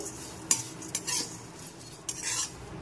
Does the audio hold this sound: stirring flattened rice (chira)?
yes